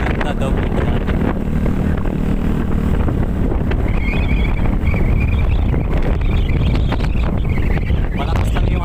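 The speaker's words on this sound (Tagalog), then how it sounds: "Malakas lang yung hangin, pero kakayanin natin." Strong wind roars and buffets continuously against the microphone on a mountain climb in Oriental Mindoro, loud and close, with someone speaking briefly over it.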